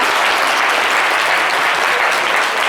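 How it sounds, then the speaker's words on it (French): An audience applauds a guest at a live show, a steady dense wash of clapping hands that stays loud and even throughout, with no voice rising above it. "Applaudissez pour Monsieur Concapieux."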